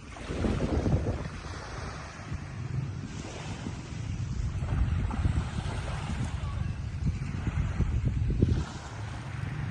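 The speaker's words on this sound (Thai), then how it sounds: "ฟังเสียงคลื่นกันก่อนนะคะ" Sea waves breaking on Bang Saen beach in the early morning, a continuous wash of surf with rolling swells and strong wind buffeting the microphone, no clear speech.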